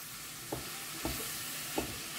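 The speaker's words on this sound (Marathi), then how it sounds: "सो आतां आमी घालया मेथी. सो बरें ताका मिक्स करून घ्या." Spices and fenugreek being stir-fried and mixed in a pan, a quiet steady sizzle punctuated by three soft, evenly spaced stirring scrapes, with nobody speaking.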